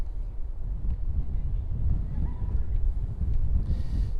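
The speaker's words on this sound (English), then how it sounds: "It is windy out here on the Tidal Basin" Steady low winter wind on the Tidal Basin in Washington, D.C. buffets the microphone throughout, a continuous dull roar with no clear voices standing out.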